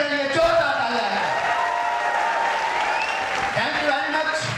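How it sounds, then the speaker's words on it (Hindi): Audience applause at a motivational business gathering in Lucknow, a steady wash of clapping running the whole stretch with voices calling out over it. "मैं चाहूंगा जोरदार ताली एक बार हम सभी ग्रेट अपलाइन"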